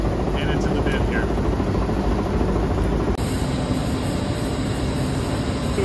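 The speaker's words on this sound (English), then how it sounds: "So the shaking screen goes through 30 mils first, and then 40 is down this chute" Continuous loud industrial rumble from a shaking screen at a thermal hydrolysis waste plant, steady broadband machinery noise with a shift in tone partway through, no clear speech.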